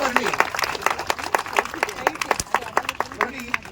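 Scattered clapping from an audience at a fire-control training session at a children's hospital in Bangalore, sharp uneven claps rising and falling over a few seconds, with some background noise.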